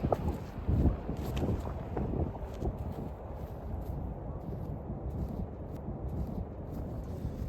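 A headwind buffets the microphone outdoors on a disc golf course, making a continuous low rumble with gusty surges, strongest near the start.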